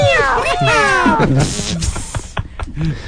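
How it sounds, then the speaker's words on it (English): Cats yowl and wail at close range in a cat fight, with rising and falling drawn-out cries and a few sharp bursts over about three seconds. "I'm smelling a cat fight"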